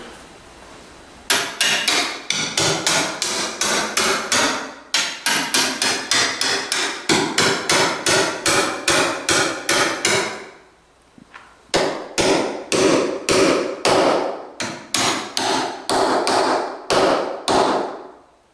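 Steady series of sharp hammer blows driving bolts into a wooden skiff, about two strikes per second, loud and close, with a short pause partway through before the pounding resumes.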